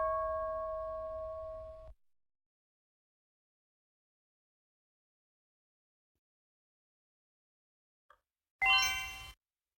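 Stock market opening bell: a steady tonal ring fades out after two seconds, followed by long silence, a tiny click, and then a brighter, louder ringing burst near the end.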